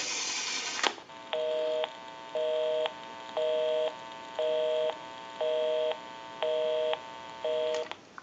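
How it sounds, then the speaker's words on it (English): Touch-tone DTMF dialing on an Automatic Electric 3-slot payphone: a brief dial tone, then seven steady dual-tone beeps in an even rhythm, each about half a second long with short gaps between them, clear and close with no voices. "We'll call my number and it'll be busy."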